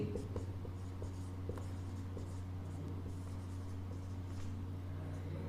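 Chalk or marker writing on a board in a classroom grammar lesson, a faint series of short scratchy strokes and taps over a steady low hum, no talking.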